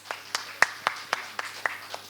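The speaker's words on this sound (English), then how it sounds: "Have a huge round of applause for this." A few hands clap in a slow, steady rhythm during a school health and wellness session, with about nine distinct claps, faint and sparse rather than a full crowd.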